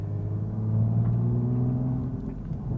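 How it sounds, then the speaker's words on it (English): A Toyota Supra engine drones steadily from inside the car, its pitch rising slightly as it blips the revs on a downshift, with no talking over it. "Whoa, and it rev matches when it downshifts"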